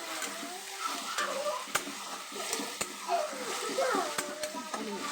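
Potatoes seasoned with salt and turmeric are stirred in a frying pan: a continuous soft sizzle, scraping spoon strokes and a few sharp clinks against the pan, with a voice talking faintly over it.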